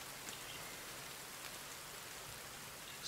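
Steady, even rainfall in the survival video game The Forest, a dense continuous hiss of drops filling the whole clip at a constant moderate level with no talk.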